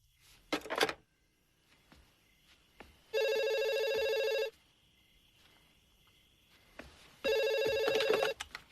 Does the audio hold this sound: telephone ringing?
yes